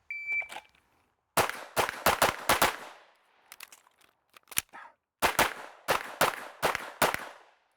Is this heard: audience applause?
no